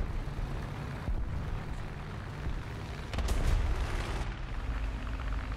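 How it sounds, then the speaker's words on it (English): A Tiger H1 tank cannon fires in a war video game, one loud booming shot with a sharp crack and heavy low rumble amid steady battlefield noise, followed by further faint blasts. "Shot."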